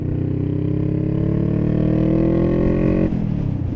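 Motorbike exhaust during a ride, a loud steady engine drone with layered harmonics held close for about three seconds, then the pitch and tone drop sharply as the throttle changes.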